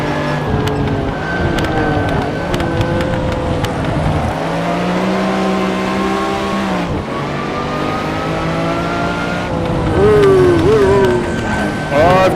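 Race car engine in a VR sim racing game, revving and shifting continuously with rising and falling pitch, loud and close, with throttle feathering and brief lifts throughout, no one talking.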